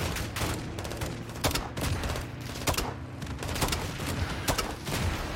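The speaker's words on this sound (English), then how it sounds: "LMG on the right." Sustained light machine gun fire in Call of Duty Modern Warfare 2, a steady stream of sharp, loud shots in rapid bursts with booming impacts layered over constant battle noise.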